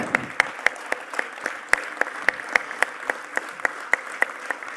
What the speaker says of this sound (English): Give yourselves a bigger round of applause, everyone.